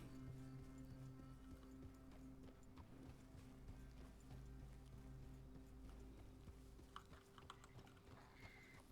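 Steady clip-clop of horse hooves at a trotting pace in the video game Red Dead Redemption 2, moderately quiet, set against a constant hum and faint tapping in the background.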